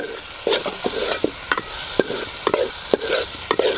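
Tomatoes with a little salt being stirred in a pan, a spoon scraping and tapping in a regular rhythm roughly twice a second over a steady background sizzle, close and unaccompanied by speech.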